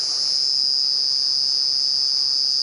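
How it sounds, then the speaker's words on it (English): Cicada singing late in the season during a sunset safari drive, a loud, steady high-pitched buzz held continuously without a break, with no voices. "That is the buzzing of my very favourite insect, and very kind of it to start its song this late in the season."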